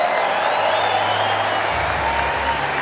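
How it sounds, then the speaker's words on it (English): Large crowd applauding the champion players at the Australian Open trophy presentation in Rod Laver Arena, a loud sustained wash of clapping filling the stadium, with a low rumbling hum beneath. "Would you please give both of these champion players one more round of applause?"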